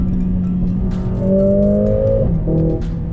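A Mercedes-AMG CLA 45 with 420 horsepower cruising on a motorway in race mode, a steady engine drone that rises in pitch as it pulls, then a gear change and a renewed climb.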